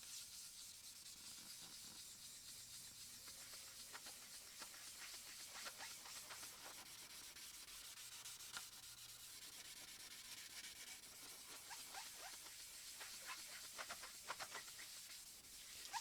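Sandpaper rubbed across a workpiece during a build project, a faint, continuous hissing scrape made of repeated back-and-forth strokes that grow a little busier toward the end.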